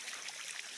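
Water trickles and splashes steadily as it exits a recirculating filter on a duck pond, a continuous close bright flow with no voices.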